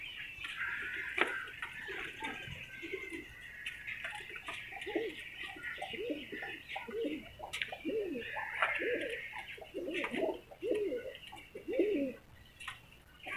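Kept racing pigeons coo in soft, repeated rolling phrases close by, a steady chorus of low throaty calls over faint background birdsong and occasional sharp taps.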